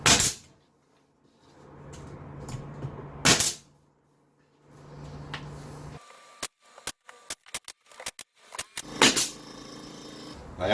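A wainscot panel is nailed to a door jamb, with quick sharp nail-gun shots in a burst plus a few louder bangs and scraping handling noises in a quiet room.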